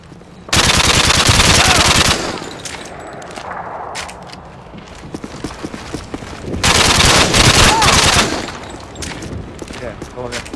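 Heavy automatic gunfire from the video game Modern Warfare 2, two long loud bursts of sustained machine-gun fire with scattered shots between them, and some speech in the background.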